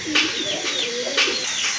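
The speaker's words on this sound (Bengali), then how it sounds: "দেখেন কত সুন্দর চুইনা কবুতর" Pigeons kept for sale coo in several short, close bursts, with soft higher chirps between them.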